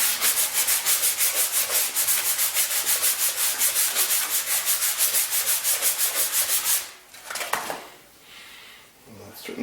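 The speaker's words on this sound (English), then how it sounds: "I'm starting to remove some of the rubber. It still needs to be sanded a bit more" A rubber golf club grip is sanded by hand in fast, even back-and-forth strokes that rub loudly and steadily for several seconds, then break off into a few irregular scrapes and handling noises.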